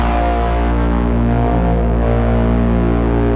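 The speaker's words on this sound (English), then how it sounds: "Beam Splitter is like a triple distortion, and I think it's gonna make the harp sound super wide for this." A harp played through an Old Blood Noise Beam Splitter triple distortion pedal makes a loud, dense, saturated drone with a wide, buzzing sustain that holds steadily throughout.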